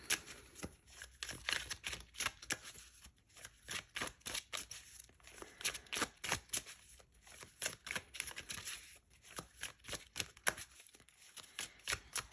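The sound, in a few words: shuffling divination cards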